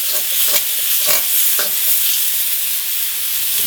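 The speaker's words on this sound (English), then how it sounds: "This is when I like to put my garlic in." Garlic frying hot for egg fried rice, a loud continuous sizzle with a few scraping stirs of the pan near the start.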